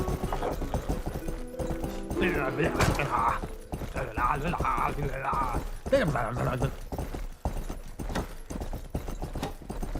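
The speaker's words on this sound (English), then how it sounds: "the horse runs out of stamina sometimes, so I better like stop for a bit and let it regain some stamina" A video-game horse clip-clops along at a steady rhythm, hooves loud and close, while someone talks continuously over the gameplay.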